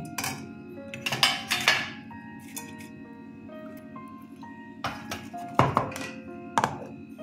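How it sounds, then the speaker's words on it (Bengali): Dried fish (shutki) being mashed into a paste for bharta, with irregular thuds, squishes and scraping clatters of a utensil against a pot or bowl, close and fairly loud over a steady low hum. "মাছগুলো এখন পেস্ট করে নেব।"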